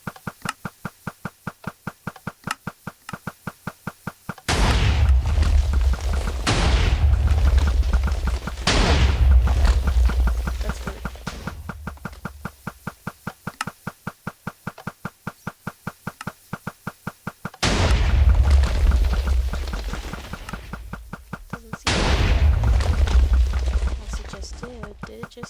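Cannons on a mech in a video game fire automatically, each burst of heavy booming blasts repeating in loud waves over a rapid ticking mechanical pulse.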